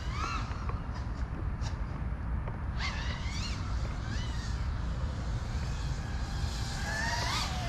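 An FPV quadcopter on Ethix P3, Gemfan Hurricane 5143.4 and Foxeer T-Rex propellers spools up under throttle. A steady loud motor roar carries repeated rising pitch sweeps as the props rev up and ease off.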